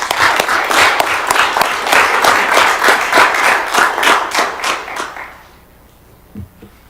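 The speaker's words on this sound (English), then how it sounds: "Let's give them another round of applause, please." Applause at a commission meeting: a roomful of people clapping steadily for about five seconds before it dies away, leaving near-quiet with a brief thump near the end.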